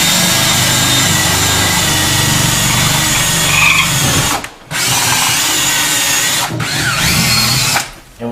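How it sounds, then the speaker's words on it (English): A power drill bores holes through a house wall to run cable for a new cable TV install in the USA, running loud and steady at close range with brief pauses between bursts. "when you're drilling these holes, be careful"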